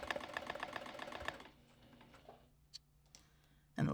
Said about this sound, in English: let's go to the sewing machine and we'll do that now